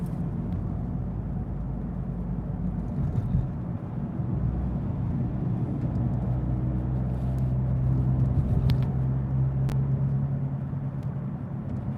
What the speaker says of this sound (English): There's this car, this tiny smart car right in front of me. It's doing brum brum brum brum brum brum brum.